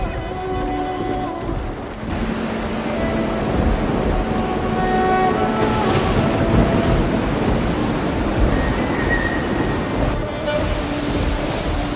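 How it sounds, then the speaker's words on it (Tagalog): Heavy rain and rushing flood water make a dense, continuous roar like surf and wind, loud and unbroken throughout, with faint tonal sounds layered over it. "Bumabagsak ang tubig mula sa langit?"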